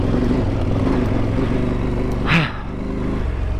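A motorcycle engine rumbles close and steady while riding a rugged mountain road, with a brief clatter and dip in level partway through.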